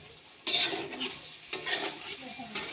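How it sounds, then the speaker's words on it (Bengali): Cauliflower and potato frying in a pan while being stirred, with a steady sizzle broken by two louder bursts of scraping and stirring. "ফুলকপি আলু ভাজা করছি"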